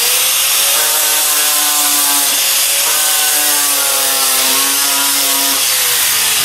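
A small grinder fitted with a 50 grit sanding wheel works on a heavily rusted piece of metal, giving a steady, loud whine with wavering harmonic pitches and a continuous gritty hiss throughout, with no talk.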